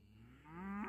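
A dairy cow in a farm herd lets out a single low moo that rises and swells in strength, close by, over steady background rumble.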